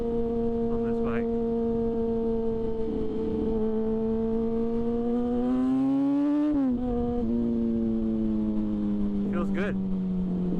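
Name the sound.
2006 Yamaha FZ6 motorcycle riding in second gear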